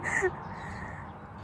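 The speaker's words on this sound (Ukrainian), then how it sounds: "І слухає спів птахів." A crow caws briefly in the open air, with faint outdoor background noise after the call.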